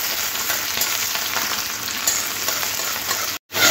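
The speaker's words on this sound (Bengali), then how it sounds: "পেঁয়াজটা এইরকম ভাজতে হবে," Sliced onions, cumin and a little garlic fry in oil in a pan for a mixed dal recipe, a dense steady sizzle that holds throughout before a sudden brief dropout near the end.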